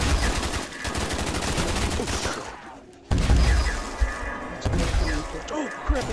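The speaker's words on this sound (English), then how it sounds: "I killed myself with a ray gun." Rapid bursts of ray gun fire from a Call of Duty VR Zombies match, in loud repeated volleys split by a brief pause, with other game effects mixed in.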